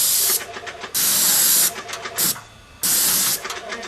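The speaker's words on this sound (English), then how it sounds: "so I'm going to go ahead and put on some spraying" Spray painting onto cracked stucco corners of a home exterior: three long, loud hissing spray bursts with short pauses between them, close to the microphone, no talking.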